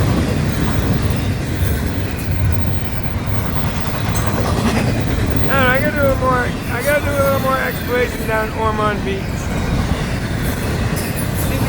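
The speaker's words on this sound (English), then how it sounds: "This is the long train though. It had all those rock cars." A long FEC freight train hauling rock cars rolls past, a steady loud rumble of wheels on rail throughout with some squealing tones midway, while someone talks over it.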